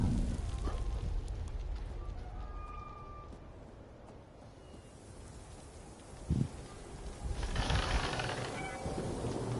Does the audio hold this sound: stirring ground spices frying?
no